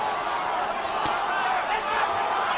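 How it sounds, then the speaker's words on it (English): Arena crowd at a heavyweight boxing match between Evander Holyfield and Michael Moorer, a dense, continuous roar of cheering and shouting with no clear breaks, one sharp impact sound cutting through early on. "The crowd trying to urge Holyfield on."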